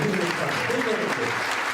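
Audience applause for a short-film award winner at a film music awards ceremony, a soft continuous patter of clapping with voices murmuring underneath, moderately distant and even.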